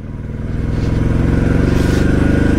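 A motorcycle engine thrums steadily and close, its pulsing exhaust note building then holding at an even cruising rhythm while riding the mountain road from Tawang toward Bumla Pass in Arunachal.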